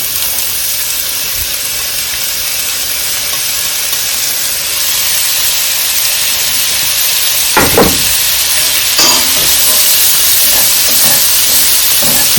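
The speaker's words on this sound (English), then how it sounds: "We're going to add our onion." Onion sizzling and hissing steadily in olive oil in a pan, loud and close, with a few clinks and stirring knocks partway through.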